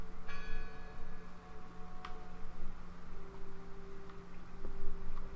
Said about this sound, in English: Listen! The bell! They're still in there!